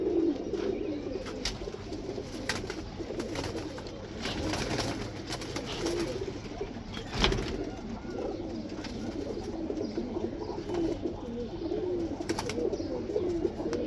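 Large pet pigeons in a pigeon house coo softly and repeatedly at close range, a low rolling murmur with a few scattered clicks and rustles.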